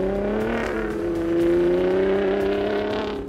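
A 2021 Ford F-150 Raptor's engine and new 3-inch exhaust with crosspipe and active valving give a loud, steady, droning note that swells slightly midway, alone with no talk.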